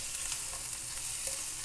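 Ginger garlic paste roasts in a pan with a quiet, steady sizzle and faint crackle, soft and close with no voices over it.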